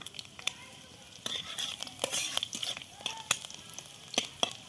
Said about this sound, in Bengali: এবার দিলাম রসুন কুচি, দিলাম রসুন কুচিটা একটু আমি ভেজে নেব